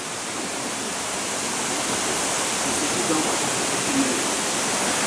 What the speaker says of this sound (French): Le ruisseau descend dans la vallée de façon plus paisible jusqu'au Tarn.